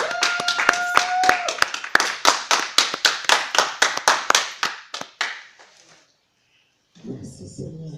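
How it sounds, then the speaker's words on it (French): A church congregation claps in a fast, steady rhythm, loud and close, for several seconds before the clapping thins out into scattered claps and silence, then voices return. "est-ce que tu peux acclamer plus fort pour le roi de Dieu?"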